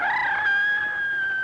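A chicken's drawn-out crowing call, loud and close, a single sustained cry lasting over a second.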